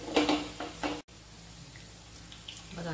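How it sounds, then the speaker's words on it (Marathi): Poha and vegetable cutlets frying in a pan give a steady low hiss with a few louder spattering bursts at the start, close and fairly quiet. "अशा प्रकारे व्यवस्थित तळून घ्यायचे।"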